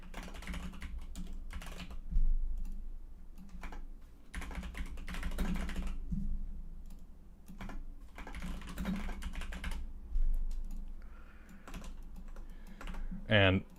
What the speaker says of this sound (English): I promise I have typed on a keyboard before.